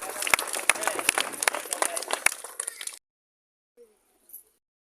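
Applause welcoming everyone at a village school event in Aravalli, dense clapping for about three seconds that stops abruptly, followed by near silence with a couple of faint sounds.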